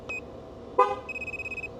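A 2011-16 Ford Super Duty F-250/F-350 truck horn gives a short toot, then a second brief honk, confirming a front-left TPMS sensor during relearn, with a rapid pulsing chirp trailing after.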